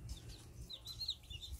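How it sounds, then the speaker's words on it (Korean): A brood of young Araucana chicks hatched naturally under a hen peep in a cluster of faint, high chirps scattered across a quiet, low rumbling background. "병아리."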